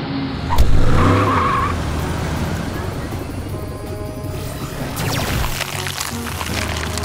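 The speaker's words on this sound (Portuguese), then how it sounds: "Agora, morfe em um carro bem grande e forte, Morphle!" A cartoon car speeds off with a loud whoosh and a long tire-squealing skid, followed by a rushing, roaring drive-by with high squeals near the end.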